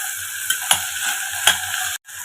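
Vegetables and tomato sizzle steadily in a pan for semiya pulao, with occasional clicks and scrapes of stirring over the continuous hiss.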